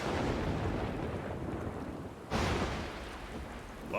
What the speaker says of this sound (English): you gotta have it with the lightning strikes, right?